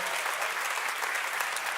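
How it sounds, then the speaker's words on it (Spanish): A congregation at a Christian congress applauds guests from Costa Rica, a sustained wash of many clapping hands, steady and moderately loud, filling the hall without breaks. "Démosles un aplauso a ellos."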